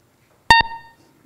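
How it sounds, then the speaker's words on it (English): Two short electronic beeps, one right after the other, from an Apple II emulator written in Python. The second tone is slightly higher, and a faint tail and low room noise follow. "everyone listen out for the beep, because you know what's involved in getting this beep now."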